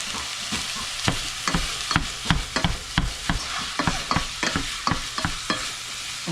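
Garlic sizzles in a pan on a home stove, a steady frying crackle broken by regular scraping stirs of a utensil every half second or so, close and fairly loud.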